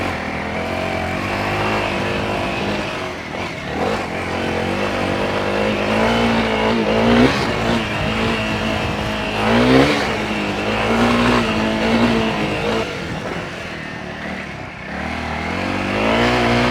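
A Honda CRF300L dual-sport motorcycle revs and shifts gears on a steep trail climb, engine pitch rising and dropping with each change and a notchy shift into second, heard loud and close from the rider's position.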